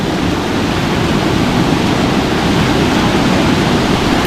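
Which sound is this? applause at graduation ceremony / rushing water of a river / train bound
rushing water of a river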